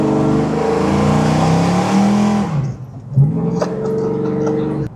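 A 1969 Chevrolet Chevelle SS restomod with a 632 big-block V8 on cold tires rumbles loudly up close, a deep throbbing idle that revs and surges briefly before settling back into a steady heavy drone.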